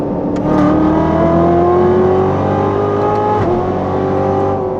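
A Corvette Z06 accelerates hard from a 70 mph roll, engine note climbing steadily with a quick paddle upshift partway through, loud and close from inside the cabin.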